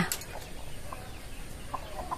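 Free-ranging rooster and hen in rural Thailand, giving a few faint, scattered clucks and calls at a moderate distance over quiet outdoor background.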